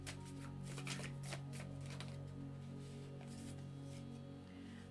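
Tarot cards being shuffled close by, a soft continuous riffle and slap of the deck over a low background hum.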